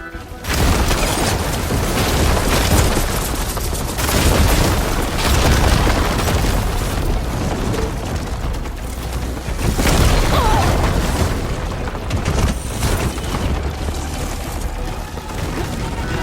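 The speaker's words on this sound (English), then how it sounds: "Hopefully this Noct will fire a few shots from that ballista" Heavy booming blasts from ballista shots in Horizon Forbidden West, dense and continuous with rumbling impacts layered over a loud battle soundscape, no talk.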